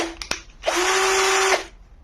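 An Ingco cordless drill machine whirs at a steady high pitch for about a second after two brief clicks of the trigger, close and loud, then spins down.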